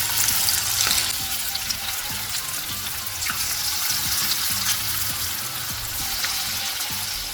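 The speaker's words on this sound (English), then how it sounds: "I will just put small dumplings in here of the batter to prepare pakodi." Small dumplings of moong dal batter fry in hot oil, a steady close sizzle and crackle running continuously, with faint spoon or utensil sounds mixed in.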